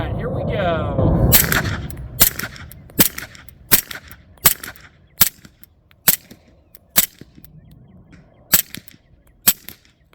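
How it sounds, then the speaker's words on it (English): A suppressed Beretta M9A4 pistol fires ten spaced shots of supersonic and subsonic rounds on a range, sharp close cracks about a second apart, after a brief noisy handling sound at the start. "So 10 rounds total, 5 super, 5 subsonic."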